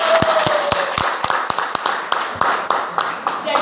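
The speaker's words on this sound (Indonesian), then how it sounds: "Kasih aplaus dulu buat" An audience claps at a motivational business seminar, a quick run of sharp, fairly close hand claps spread unevenly over a few seconds, with a faint voice underneath.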